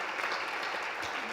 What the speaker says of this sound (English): Would you give them a final round of applause?